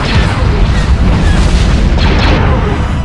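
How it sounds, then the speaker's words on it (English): Weapon fire and explosions pound a strike group in the space strategy game Homeworld Remastered, a loud, continuous wall of deep booming blasts and rumbling impacts. "Strike group receiving fire."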